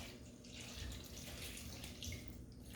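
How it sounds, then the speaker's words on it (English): Two cups of milk pour steadily from a container into a bowl of vanilla pudding mix, a continuous liquid splashing and trickling that stays close and moderately quiet throughout, with no voices. "Then we put 2 cups of milk. We pour it in here."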